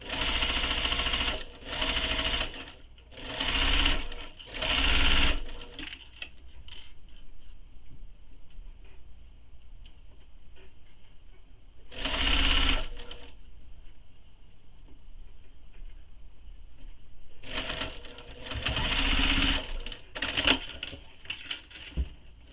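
Sewing machine stitching a convertible tote bag, running in several short loud bursts separated by pauses, with a steady motor hum between runs and no talking.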